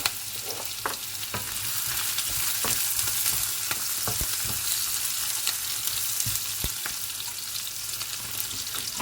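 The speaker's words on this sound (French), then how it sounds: "Tout d'abord, on va caraméliser un peu les oignons." Onions caramelizing in a hot pan for Malagasy rice with greens, a steady close sizzle with scattered scrapes and clicks of stirring throughout, no voices.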